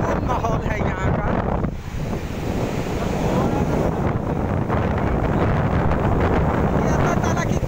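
Sea waves at a Karachi beach, a continuous rushing surf with heavy wind buffeting the microphone, loud and close, with someone talking over it.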